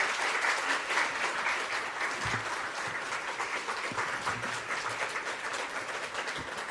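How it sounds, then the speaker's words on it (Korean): A church congregation at a Sunday service applauds warmly to welcome a visiting pastor, a fairly quiet but continuous patter of many hands clapping without talk. "우리 뜨거운 박수로 환영하면서"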